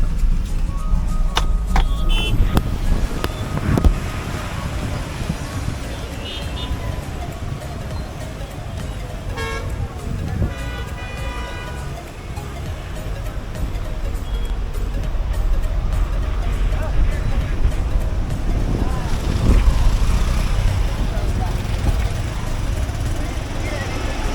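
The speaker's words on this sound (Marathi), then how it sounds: "ट्रॅफिक जाम आहे" Cars stuck in a traffic jam on a village road, with repeated horn toots and honks over rumbling engines and traffic noise, and people talking throughout.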